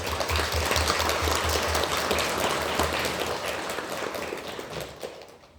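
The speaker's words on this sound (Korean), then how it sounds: "한번 박수 한번 해주세요." A church congregation in Korea bursts into warm applause for visiting guests, a thick, steady clatter of many hands that holds for several seconds, then thins and fades out near the end.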